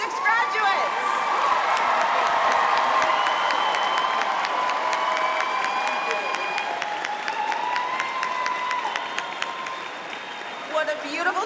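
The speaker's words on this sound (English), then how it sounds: "let's get a round of applause for our 2026 graduates" Commencement crowd at a graduation ceremony applauding and cheering the graduates: dense, sustained clapping throughout, with whoops and shouted cheers riding on top and a slight fade toward the end.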